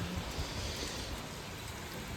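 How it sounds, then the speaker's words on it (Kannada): Heavy rain pours steadily, a dense, even hiss of falling water with no voices, fairly soft overall. "ಪೂರ ಮಳೆ ಚಲೋ ಆಗ್ಬಿಡೈತೆ ನೋಡ್ರಿ"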